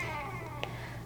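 A 13-year-old cat meows faintly indoors, a brief, soft whining call with a small click, set against a low steady hum.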